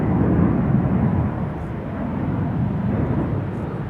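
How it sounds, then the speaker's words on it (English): Cathay Pacific Airbus A350-1000 taking off from Polderbaan runway 36L at Amsterdam Schiphol, a loud steady jet roar that eases slightly partway through, no voices. "This is Cathay Pacific, the A350-1000, flight 270 to Hong Kong."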